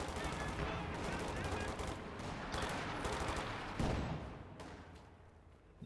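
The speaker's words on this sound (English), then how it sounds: "60 munitions for a strafe that immediately pins everything around you." A strafing run in Company of Heroes 2 rips out dense, sustained machine-gun fire with overlapping bursts and impacts, loud and continuous for several seconds before easing off, with a commentator talking underneath.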